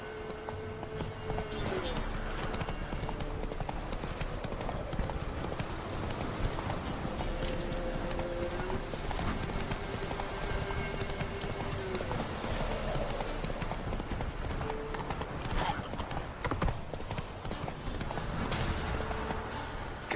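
Roach, the horse in the video game Witcher 3, trots with a continuous, rhythmic clip-clop of hooves over a steady outdoor ambience, close and moderately loud.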